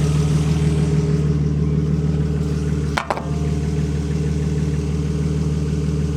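A BMW E36 engine idles steadily while warming up to working temperature, a close, even, low rumble with one brief click partway through and no talk.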